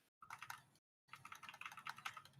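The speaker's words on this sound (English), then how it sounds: "I actually like the sound of the keyboard." Typing on a computer keyboard, quick uneven clusters of close key clicks in two bursts with a short silent gap between them.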